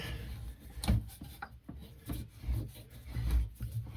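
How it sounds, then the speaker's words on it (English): A length of PEX plumbing pipe is cut by hand during a distribution-line repair, heard as faint, irregular crunching and rubbing strokes, a few short bursts in a quiet space. "So now I'm just cutting the pipe off."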